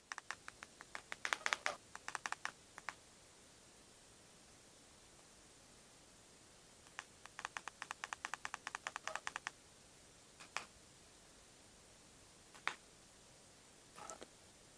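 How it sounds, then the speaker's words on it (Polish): Buttons on the remote of a Xiaomi TV Box S 3rd gen are pressed in quick bursts of faint, sharp clicks, then a few single presses, against a quiet room hiss. "Ciekawe, czy będziecie słyszeli klikanie tego pilota."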